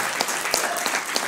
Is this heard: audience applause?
yes